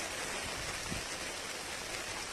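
Steady rain pouring outside a house, a dense, even hiss with no letup that sits close and loud throughout.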